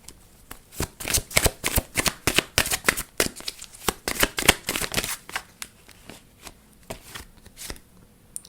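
Tarot cards being shuffled by hand, a rapid run of crisp riffling flicks and slaps that comes in quick bursts, close and clear with no talking.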